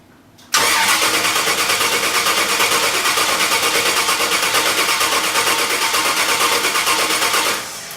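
A car engine cranks and catches after a quiet moment, then runs loud and steady with a rapid, even pulsing idle for several seconds before easing down slightly at the end.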